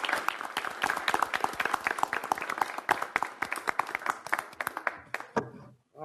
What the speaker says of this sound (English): Can we give you all just a round of applause before we start?